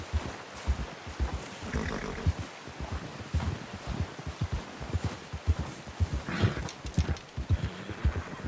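Steady, rhythmic hoofbeats of a horse clip-clopping along in the Red Dead Redemption 2 video game, close and continuous over a low rumbling background, with no talk.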